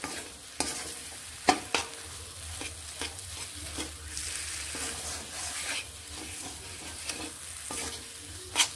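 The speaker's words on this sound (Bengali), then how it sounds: "নুন মিশিয়ে আর একটু ভালোভাবে এইভাবে কষিয়ে নিচ্ছি" A lentil filling for dalpuri is stir-fried in a pan, sizzling steadily while a spatula scrapes and knocks against the metal in an irregular rhythm, close and clear, with no voices.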